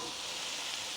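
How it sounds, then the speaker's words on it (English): A meatless burger browns in a pan on the stove with a steady, even sizzle of frying, continuous and fairly quiet. "we're trying to get this to brown. And I got the stove up a little"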